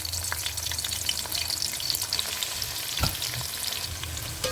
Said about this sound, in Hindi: अब हम इसमें प्याज डालते हैं